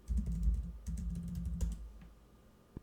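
Quiet keystrokes on a computer keyboard, a short run of soft, rapid tapping with a brief pause and a final isolated click.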